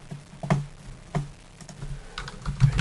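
Computer keyboard keys are pressed a handful of times at an uneven pace, each a sharp close click with short quiet gaps between.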